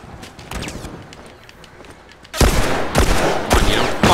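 Shotgun blasts in The Last of Us multiplayer: faint clicks and scattered shots, then several loud, close, booming blasts in quick succession, with no talk.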